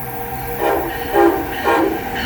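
Train pulling into North Philadelphia station, a Silverliner V passing along the platform with rising swells of rumbling, whining motor and wheel noise in a few waves over steady background rail noise, no talk.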